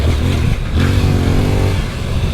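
Suzuki V-Strom 800DE motorcycle, 2024, with ABS off, skidding under rear braking: a loud, close engine drone with tire scrub and clatter over a short moment.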